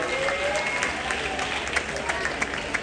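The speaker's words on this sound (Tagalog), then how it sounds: "Lahat ng anak ng Diyos, pumalakpak muna sa ating mahal na Panginoon." A church congregation claps for the Lord at a Filipino worship service, with steady, dense applause filling the space while voices carry over it.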